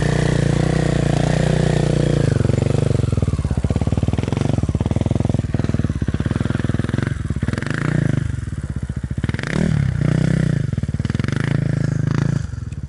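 A 250cc scooter labors up a hill near Uzdowo, its engine droning loud and close with a rough, rattling clatter. The pitch holds steady, then dips and rises as the rider works the throttle on the climb.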